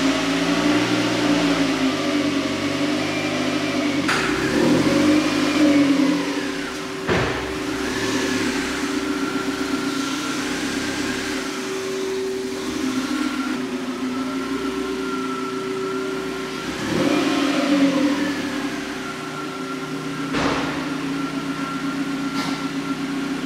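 Car engine running and revving as the car drives into a garage box: a steady mid-pitched engine drone at moderate loudness, with rises in revs and a few sharp clunks, and no talking.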